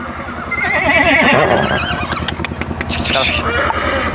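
A mare neighs at the Jagraon horse fair, a loud wavering whinny close by, with a motorcycle engine and people talking around it.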